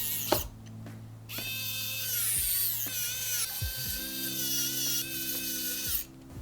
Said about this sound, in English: we're going to screw all the screws back in